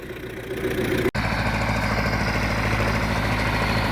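A tractor engine drives onto a ploughed field, a steady loud low rumble with a constant drone, briefly interrupted by a short dropout before continuing evenly.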